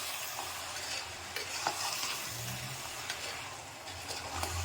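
Gravy with chili powder and salt being stirred and fried in a pan for a breakfast appam side dish, a steady close sizzle with scraping stir strokes throughout, no talking.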